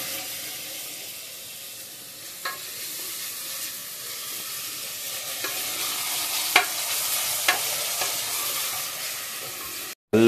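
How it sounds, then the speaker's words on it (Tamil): Ginger and garlic sautéing in a pan, a continuous hiss of frying broken by occasional light clicks of a spoon against the pan, fairly close and even throughout. "வதக்குங்க, நல்லா வதக்குங்க."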